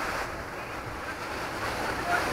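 Sea waves wash steadily at a beachside cafe on Vagator beach in Goa, India, a constant broadband surf rumble mixed with wind noise on the microphone.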